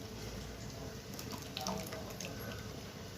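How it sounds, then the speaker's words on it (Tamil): Coconut milk poured into a pot of village-style raw banana kofta curry, heard as a steady, close liquid trickle and splash that runs without a break for about three seconds, with no talk. "நான் வந்து கொஞ்சமாக பாலை தான் ஊற்றிக்கிறேன்"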